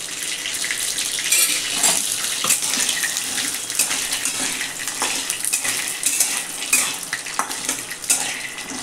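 Peanuts roast in oil in a pan, with a dense, loud, continuous sizzle and crackle and occasional stirring scrapes throughout.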